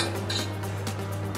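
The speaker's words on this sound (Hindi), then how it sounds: "और स्टैंड रख देंगे।" A metal stand is set down inside a pressure cooker warming on a low flame with salt in the base, giving a short metallic clatter and clink against the pot over a steady background hum.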